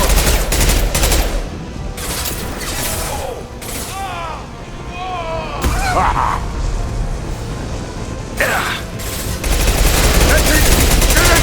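Heavy gunfire rakes a loose fuel tank during a Mass Effect 2 firefight, with loud bursts of automatic shots, booms and crashes throughout and voices and shouting mixed in.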